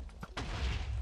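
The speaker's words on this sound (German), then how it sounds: "Vor allem diese heftige Explosion immer" A heavy explosion in a multiplayer video game, a couple of short sharp cracks followed by one loud boom that rolls into a sustained low rumble and fills the rest of the moment.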